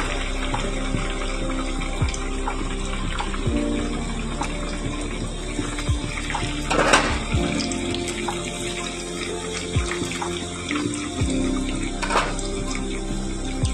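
Onion pakoras (peyaji) fry in hot oil, a continuous dense sizzle and bubbling hiss close by, with occasional louder pops and clinks from a utensil in the pan.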